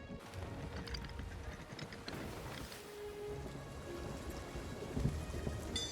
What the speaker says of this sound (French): un orage m'empêche de voir la suite